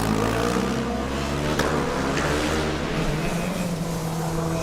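Formula Student race cars running on an endurance track, a steady loud engine drone with shifting harmonic tones as cars pass, continuous throughout.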